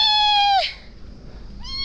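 A cat gives one clear, close meow that rises and then falls, followed by a short quiet gap and the start of a second meow.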